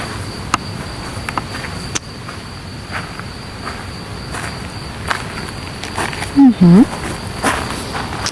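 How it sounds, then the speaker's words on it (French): Steady crickets chirping in the background throughout, with a few faint footsteps or knocks and a brief low voice near the end. "On a les grillons derrière."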